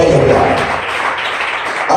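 A church congregation claps together in a broad, dense wash of applause that continues steadily, fairly loud and close, with some voices mixed in.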